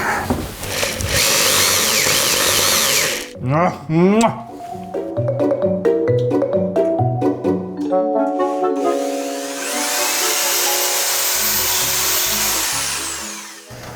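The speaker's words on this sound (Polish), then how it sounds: "Weźmiemy wiertło i będziemy wiercić." A power drill whirs in two loud bursts, at the start and again near the end, with a voice speaking briefly in between.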